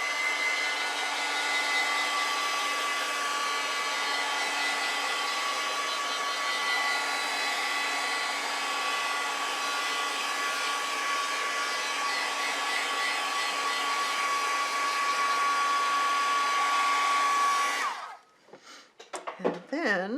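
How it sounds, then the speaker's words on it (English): Heat gun blowing to dry ink on a mixed media painting, a steady loud whirring rush that runs for about eighteen seconds, then cuts off abruptly, leaving brief faint handling noises. "I'm going to just give this a little shot of heat from my heat gun to dry the ink."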